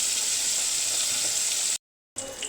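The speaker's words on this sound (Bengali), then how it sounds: "কড়াইতে তেল দিয়ে কয়টা ট্যাংরা মাছ দিয়ে দিলাম। ট্যাংরা মাছ কটা ভেজে নেব।" Tengra fish sizzle and spit in hot oil in a wok, a steady close frying hiss that cuts out briefly near the end before resuming.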